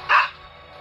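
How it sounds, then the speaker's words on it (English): A single short dog bark from the survival video game Last Day on Earth, sharp and fairly close, followed by a low quiet background hum. "Looks like the dog wants me to follow it."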